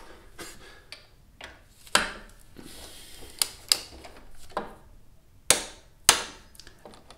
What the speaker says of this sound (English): stop after the first click